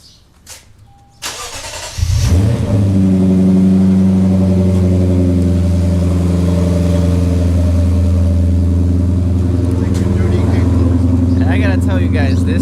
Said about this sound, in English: this car sounds amazing. This thing, naturally aspirated V8 5-liter, amazing music to my ears